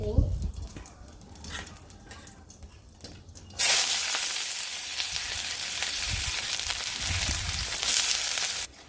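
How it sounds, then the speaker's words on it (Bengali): Sliced onions frying lightly in a pan hiss in a loud, steady sizzle that starts abruptly after a few seconds of quieter clatter and lasts to the end, with no talk over it. "পেঁয়াজগুলো হালকা একটু ভাজি করে নিলাম"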